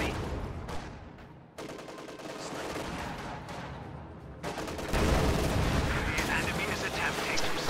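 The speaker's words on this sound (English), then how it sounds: "T-34 takes a shot at the Panzer IV" T-34 tank cannon fire in a World War II tank video game, heard as heavy booming blasts within a dense, continuous battle din, with speech in the mix.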